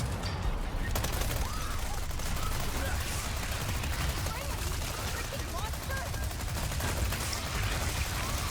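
SMG fire at a dummy in Resident Evil 4 Remake, a game's shooting range: dense, continuous rapid bursts of gunfire, loud and close, with someone talking over it.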